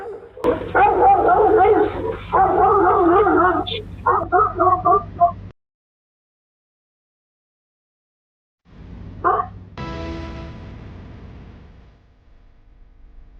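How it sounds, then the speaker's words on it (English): An aggressive guard dog barking at a delivery worker outside a house, loud rapid bursts of barking close by, then a gap of silence before more barking and yelping sounds. "A delivery worker arrived at a house, only to be chased off by an aggressive guard dog"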